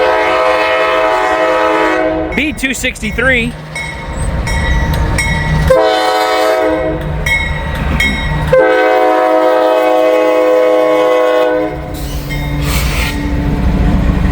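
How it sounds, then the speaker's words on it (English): Freight train passing close by, loud rumbling and clattering wheels with repeated horn blasts in bursts, a brief voice speaking over the noise. "We got first train of the day."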